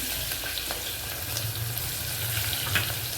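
Green chillies, garlic and curry leaves fry in hot oil with asafoetida for masala khichdi, giving a dense, steady sizzle and crackle with occasional soft stirring. No talk is heard.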